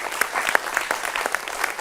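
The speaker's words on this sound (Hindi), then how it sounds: "जोरदार तालियों से स्वागत कीजिए भावेश झा" Studio audience at a Rajasthan election opinion-poll TV show bursts into dense, steady applause to welcome a guest, a brief close burst of many hands with sharp individual claps standing out.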